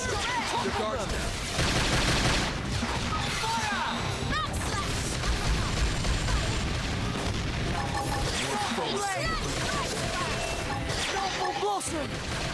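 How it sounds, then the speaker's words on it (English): Mecha gunfire in Xenoblade Chronicles X: Definitive Edition, a dense barrage of shots and booming blasts over busy game music and effects, with voices speaking throughout. "The gun's fired."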